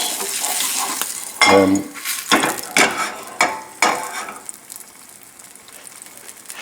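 Risotto and mushroom patties sizzling in a frying pan over raised heat, with a steady fry hiss broken by several sharp scrapes and clinks of a utensil against the pan; a brief spoken word.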